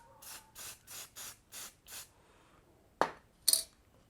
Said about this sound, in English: the last step on this is to put another coat of primer on.